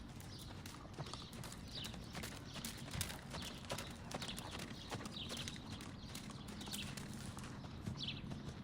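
Rhythmic hoofbeats of a horse cantering during a training ride, a faint, steady clip-clop with repeating beats at a moderate distance and no talk.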